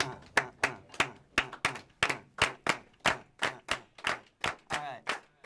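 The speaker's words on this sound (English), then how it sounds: "Can you guys clap a rhythm with us?" An audience claps a steady rhythm together, crisp hand claps repeating in an even pattern of about a dozen beats, close and clear with no talking over them.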